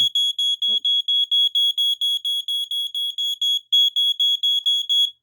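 A FireX FX1218 smoke alarm beeps shrilly and rapidly, about twenty short piercing pulses in steady rhythm with one brief pause, loud and close.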